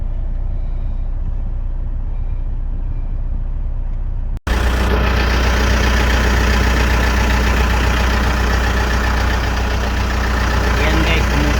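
A Mitsubishi Montero Gen 2 engine idles steadily and loudly from about four seconds on, after a brief cut, with a constant low rumble filling the rest of the clip.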